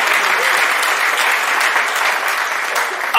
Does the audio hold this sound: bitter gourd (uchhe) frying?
no